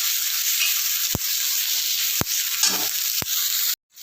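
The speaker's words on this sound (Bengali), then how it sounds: "এবার আমি ভালো করে সবকটা জিনিস মিশিয়ে নিয়ে ভালো করে মিলিয়ে নিয়ে ভাজতে থাকবো।" Capsicum, potato and onion sizzle steadily in a frying pan while being stirred. Three sharp spatula knocks against the pan stand out over the hiss before the sound cuts off abruptly.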